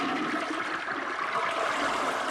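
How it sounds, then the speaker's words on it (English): A toilet flushes as a cartoon sound effect, giving a rushing, gurgling swirl of water that stays steady and fairly close from start to finish, with no voices over it. "play that delightful flush sound on your way out"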